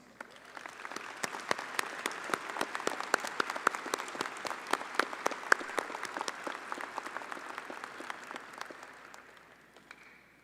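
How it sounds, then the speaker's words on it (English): A large audience at a commencement ceremony applauds warmly for the faculty, sustained clapping from many hands that builds quickly and holds steady before fading out. "let's give our incredible faculty a round of applause"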